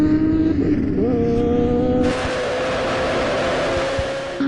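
A Hayabusa motorcycle screams across open salt flats at speed, its engine holding a steady high-pitched drone that shifts upward as it pulls on, loud and continuous without any talk.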